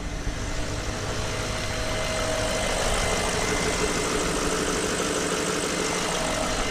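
Range Rover L322 with a 4.4 V8 petrol engine idling during fuel pump diagnosis, a steady, even mid-low rumble that holds constant throughout with no speech over it.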